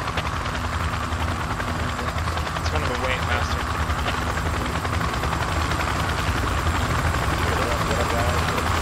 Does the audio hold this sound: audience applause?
no